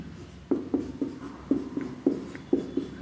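Chalk or marker writing on a board during a lecture, a series of short scratchy strokes tapping out in a steady, near rhythm with no talk over them.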